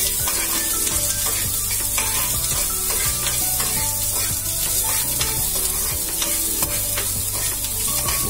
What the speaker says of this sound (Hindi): जब ये पैन गरम हो जाए तो इसमें लहसुन को डाल दें और इसे 30 सेकेंड तक भुने।